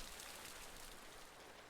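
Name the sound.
rain in the video game Kynseed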